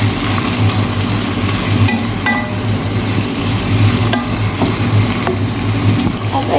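Onion and chicken frying in a pan for chicken biryani, stirred steadily with a spoon, giving a continuous loud sizzle under a scraping rhythm throughout, with no talk.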